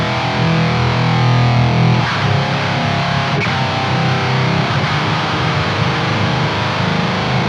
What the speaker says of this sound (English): It's an overdrive pedal with like a built-in fuzz mode, and it sounds sick on high gain guitars.